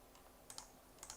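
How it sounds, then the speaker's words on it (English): Light keystrokes on a computer keyboard, two short clusters of quick taps about half a second apart, faint and close with no voices. "Somebody's typing"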